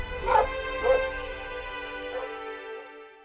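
A dog gives two sharp barks close by, then trails into a soft, drawn-out whimper over a steady background tone, with no talking over it.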